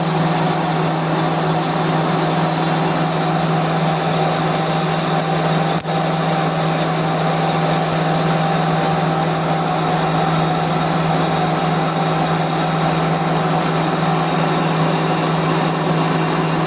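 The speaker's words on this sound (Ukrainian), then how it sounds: "Обдираємо заготовочку, зразу в розмір" A lathe rough-turns a large steel blank for a toothed pulley, giving a steady, loud machining drone with a constant hum and a broad hiss that runs unbroken throughout, with no talk.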